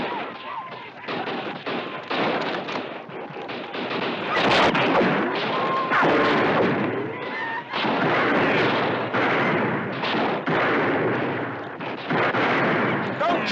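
Gunfire rings out in a western film scene: repeated loud shots and volleys crack over a busy, noisy backdrop for the whole stretch.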